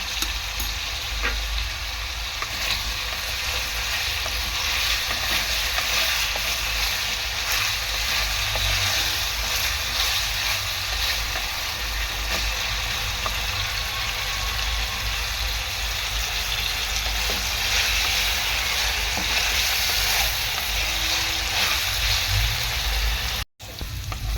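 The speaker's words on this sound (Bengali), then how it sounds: "একটু সামান্য পরিমাণ লবণ দিয়ে দেবো আলুটাকে ভেজে নেওয়ার জন্য" Potatoes frying in a pan with a little salt: a loud, steady, dense sizzle that runs unbroken for the whole stretch, close up and with no voices, then cuts out briefly near the end.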